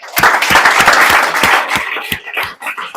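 An audience claps for a student at a family celebration of IIT Kanpur admission, a loud burst of applause with distinct individual claps that thins into scattered, fading claps toward the end.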